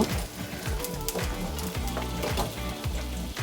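Potatoes, kohlrabi and carrots hit hot oil in a pan for a winter vegetable curry, giving a loud, steady sizzle and frying crackle with stirring scrapes throughout, no voices.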